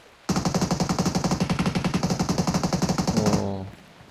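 Sustained automatic gunfire during a firefight in PUBG Mobile, a rapid, evenly spaced burst of about three seconds, loud and close, ending in a brief fading tail.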